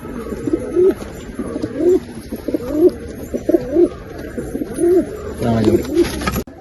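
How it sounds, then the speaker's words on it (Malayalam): Pigeons in a breeding loft give repeated soft, throaty coos, about seven close calls in a loose rhythm against a busy background, with some talking mixed in. "പഴയ പ്രാവ് തന്നെ"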